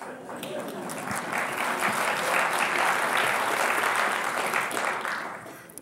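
A conference audience applauds steadily for several seconds, a dense, sustained wash of many hands clapping that swells in the middle and tapers slightly at the end, with no talk over it.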